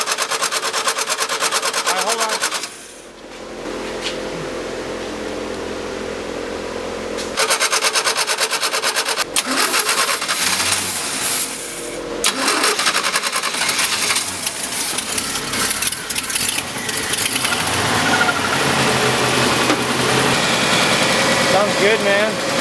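A 1975 Chevrolet 292 engine cranks, catches and settles into a steady idle, loud and close throughout with a brief dip partway through, while voices talk nearby over the running motor.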